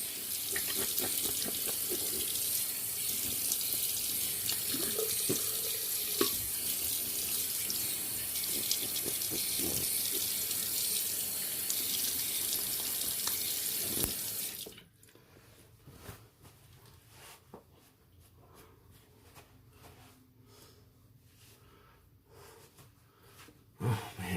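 A bathroom sink tap runs loud and steady as a face is rinsed after shaving, a close broadband rush of water that cuts off abruptly partway, leaving a quiet room with faint handling sounds.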